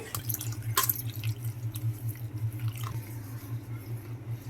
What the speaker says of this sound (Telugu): నేనైతే ఇప్పుడు నీట్గా కడిగేసుకుంటున్నానండి